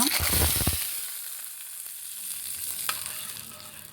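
A burst of loud crackling and popping as mustard seeds, fenugreek and a dried red chili hit hot oil, quickly settling into a softer, steady sizzle up close.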